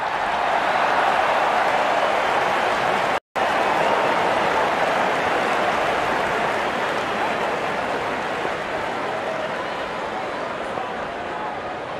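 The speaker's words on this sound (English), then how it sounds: "Openers walking in and the crowd cheering in anticipation." A crowd in a cricket video game cheers in anticipation as the openers walk in, a steady dense roar with one brief cut near the start.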